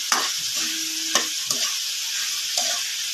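Sinantolan being stirred in a pan just after salt is added, with a steady sizzle of frying and a few sharp scrapes and clinks of the utensil against the pan, close up and without talk.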